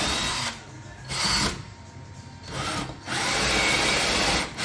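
Power drill bores into oak stair treads during a step-cladding renovation, three loud whirring bursts broken by short quieter pauses, recorded close up.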